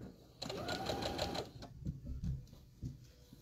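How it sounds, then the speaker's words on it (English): A sewing machine stitches around a circle on padded fabric for a trinket box, giving a fast, even whir in a short burst followed by a few quieter taps. It is close by, and there is no talk. "we're gonna sew around the circle and then down those lines"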